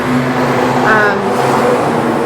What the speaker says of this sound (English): I apologize for the really traffic sounds